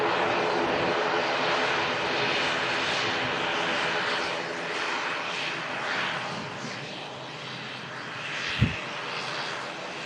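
An airliner's engines roar at an airport, a loud sustained rumble with shifting whine that swells and eases, one brief thump near the end.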